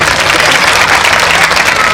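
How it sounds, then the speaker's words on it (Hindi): Audience applause at a Hindu Ram Katha religious gathering, dense and steady across the short stretch, with no pauses or voices above it. "आप सभी की ओर से इनके लिए सहर्ष तालियां हो सकती हैं।"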